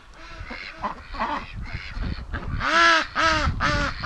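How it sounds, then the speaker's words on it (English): Farm ducks quack in loud, nasal, repeated calls that build toward the end, nearby and close together, with faint background sounds and no speech. "with the ducks quacking right now"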